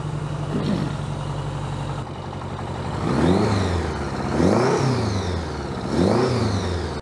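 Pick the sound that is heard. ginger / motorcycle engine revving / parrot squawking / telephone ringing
motorcycle engine revving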